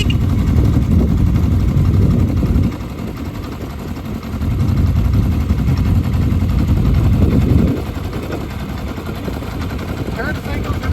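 A 1983 Kawasaki KZ750 LTD shaft-drive motorcycle engine fires up and settles into a loud, steady, throbbing idle nearby, the rumble dipping and swelling slightly over time.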